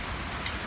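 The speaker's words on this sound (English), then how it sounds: "Plus, it's raining, there's no breeze." Steady rain falling outside an open garage, a soft continuous patter and hiss that fills the background without breaks.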